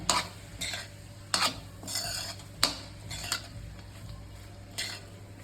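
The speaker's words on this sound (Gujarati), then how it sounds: "એકદમ સરસ હલાવી નાખવાનું" A spoon scrapes and stirs through sago khichdi in a pan, several brisk strokes with metallic clinks over a low steady hum and faint sizzle.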